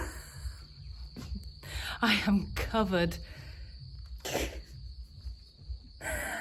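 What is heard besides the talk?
crickets and cicadas chirping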